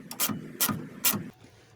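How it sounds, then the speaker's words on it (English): Bolts being wound into rusty brake caliper threads on a Volvo 240: three short bursts of rapid ratchet clicking close up, evenly spaced, then a quiet tail. "I'm just going to wind these bolts in"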